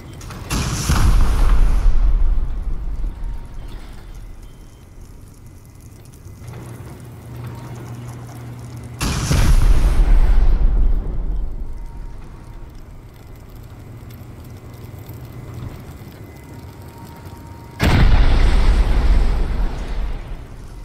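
Rocket explosions boom during a cave raid in the video game Rust, three heavy blasts spaced several seconds apart, each with a long rumbling decay and no talk.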